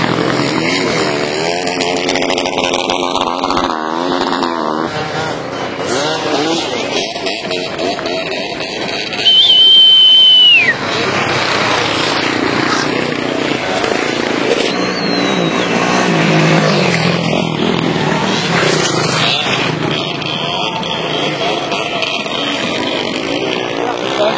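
A racing motorcycle at a skijoring race on snow roars past with loud, shifting engine whine that rises and falls over a long stretch, mixed with commentary and crowd noise.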